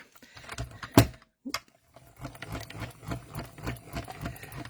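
A card sandwich is cranked through a manual die-cutting machine, giving a sharp thunk near the start and then a run of rhythmic mechanical rumbles and clicks as the plates roll through, close and fairly quiet with no talk.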